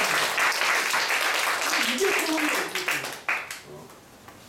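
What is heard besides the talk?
applause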